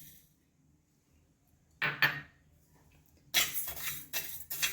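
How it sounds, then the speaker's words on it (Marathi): Rice grains being dry-roasted in a pan for carrot kheer, heard as a few sharp scraping and clinking stirs against the metal, separated by near-silent pauses, close and moderately loud. "चला तर आता आपण तांदूळ भाजून घेऊया."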